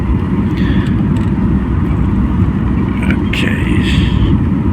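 Loud, steady low rumble inside an airliner cabin at the rear of the plane during final approach and descent, about 3 to 4 nautical miles from touchdown, with people talking faintly throughout.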